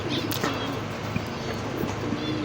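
Pigeons in a breeder's loft for high-flying birds, giving soft low coos over a constant background hum, close and continuous with no talk.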